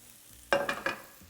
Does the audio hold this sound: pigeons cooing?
no